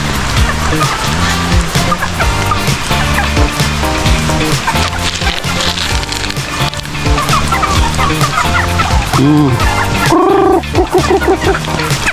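Pet chickens, ducks and turkeys at a rural provincial home in the rainy season keep up a close, busy chorus of clucks, squawks and gobbling calls, overlapping and continuing without pause.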